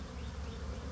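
Scout bees from a swarm buzz around a swarm trap, a close, steady insect drone filling the brief moment with no voices.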